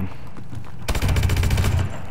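KF5 submachine gun fires in Call of Duty: Advanced Warfare, a fast, loud burst of rapid shots lasting about a second after a quiet lead-in.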